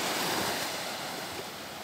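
Sea waves wash steadily against the low wall of a seaside hotel on Djerba, a continuous close rushing surf with wind noise and no voices.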